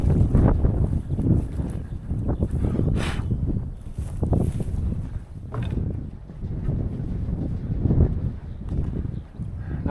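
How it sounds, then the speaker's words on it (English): Gusty wind blowing through a partly dismantled barn with a door removed, rumbling in uneven surges and rattling against the structure, with no talk. "Now it's windy inside the barn for sure."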